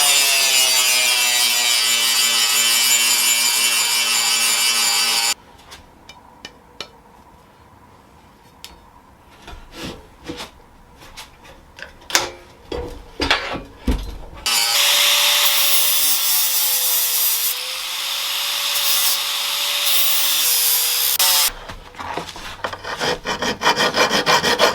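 A replica sword blade being sharpened, with long, steady rasping grinding passes alternating with irregular scraping and filing strokes, close and loud with no talk.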